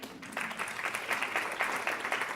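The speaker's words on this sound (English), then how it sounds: "Give yourself a round of applause one more time." A seated audience at a climate event in Monterey claps in a brief round of applause, a steady patter of many hands at moderate volume lasting a couple of seconds.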